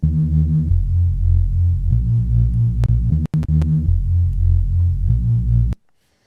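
A thick, distorted synth reese bass for jungle and drum and bass, played through FacePlant, drones in sustained phrases, loud and gritty, with a couple of brief sharp dropouts before it cuts off near the end.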